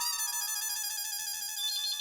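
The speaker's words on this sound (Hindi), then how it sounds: "फोन आया।" An electronic phone ringtone chimes steadily, a bright tonal melody ringing continuously at moderate volume with no talking.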